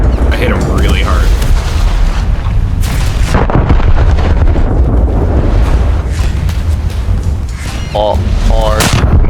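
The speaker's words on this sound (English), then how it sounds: "My torpedoes just auto-detonated." Heavy booming explosions from torpedoes detonating in World of Warships, loud rumbling blasts rolling continuously over several seconds, with players' voices talking over the battle.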